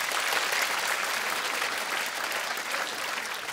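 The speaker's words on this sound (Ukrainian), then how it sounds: "А поплескайте, кого б ще в перший раз на стендапі." Audience at a stand-up comedy show in Mukachevo applauds, dense continuous clapping from a full room that swells and holds steady, loud and close, with no voices over it.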